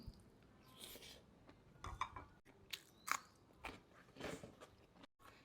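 Close, crunchy chewing and biting of stir-fried wood ear mushrooms with ginger, in bursts of crisp bites with brief pauses, a light clink of dishes or cutlery now and then, no talking.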